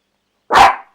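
A single sharp bark from a Kleinspitz dog, loud and close, lasting about half a second after a moment of silence, with no voices around it.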